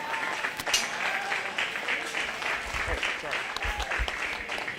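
Crowd clapping at a 4-H/FFA lamb show, a lively patter of hands with a few sharper claps standing out, mixed with background voices and the low thumps of a barn setting.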